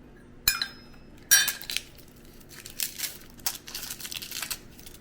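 A knife works through a shallot on a cutting board, two sharp knocks near the start followed by a run of quicker, lighter chopping and scraping taps, close and clear with no talk.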